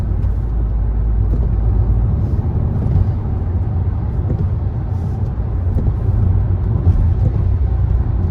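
Car cruising on a motorway and easing off speed behind other traffic, a constant loud road rumble and engine drone from inside the cabin with no voices.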